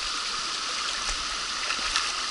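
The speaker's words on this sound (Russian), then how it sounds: "Впадает вот такой красивейший ключ с кристально чистейшей водой." A clear spring stream runs into a river, giving a steady, close rush of babbling water with small splashes and no voices.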